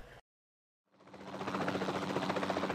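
Dr. Wu's aircraft arrives in a Jurassic World video game: a short break of silence, then a rotor-like engine roar swells in and holds steady and loud, with a low droning hum running beneath it.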